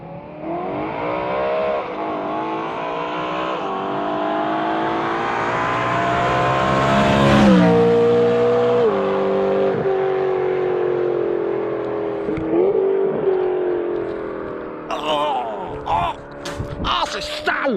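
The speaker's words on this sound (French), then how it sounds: "on parle bien d'une suppression de silencieux" BMW M3 with its exhaust silencer removed, revving hard in a long, loud, raspy sweep that rises and falls with a sharp peak midway, then sputters and crackles near the end.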